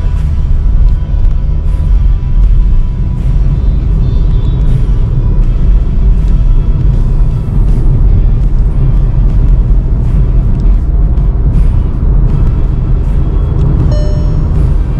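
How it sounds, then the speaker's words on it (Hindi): A Volkswagen Virtus sedan in D, Normal drive mode, pulls away from a standstill. A loud, steady engine and road rumble builds throughout with no pauses and no talk. "पहले आपको एक पिकअप लेके दिखाता हूँ, आपको इसकी परफॉर्मेंस का अंदाजा होगा"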